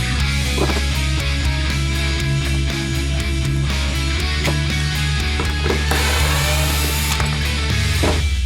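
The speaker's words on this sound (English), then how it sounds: "I like to clean up the excess steel cable with the Dremel tool to avoid sharp corners" A Dremel rotary tool trims off excess steel cable on a tensegrity table build, giving a loud, continuous high-pitched grinding whine with steady motor hum and slight shifts in pitch as it bites into the wire.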